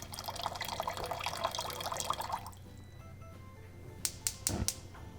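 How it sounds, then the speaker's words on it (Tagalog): Water runs and pours into a small pot, a steady splashing stream for a couple of seconds that stops, followed by a few brief clinks and taps. "Maglalagay lang ako ng tubig sa isang maliit na pot."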